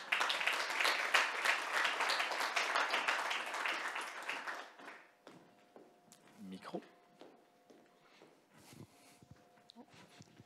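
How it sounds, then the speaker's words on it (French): A crowd at a Montreal tech awards gala applauds as a presenter comes on stage, loud dense clapping for about five seconds before fading into a quieter room with a few stray claps and small noises. "on l'applaudit"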